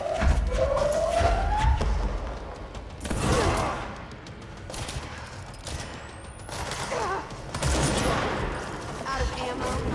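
Rapid automatic gunfire and explosions from the video game Control, heard as loud sustained bursts of shooting with a siren-like whine and a few quieter gaps between volleys.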